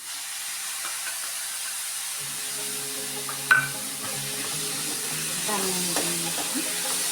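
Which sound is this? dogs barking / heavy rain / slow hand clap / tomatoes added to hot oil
tomatoes added to hot oil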